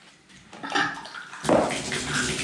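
Water runs from a shower fitted with a Moen Posi-temp cartridge, a steady broadband hiss that grows louder and fuller partway through, close by with no talking.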